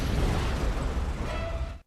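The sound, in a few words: plane crashing into a pole, explosion and fire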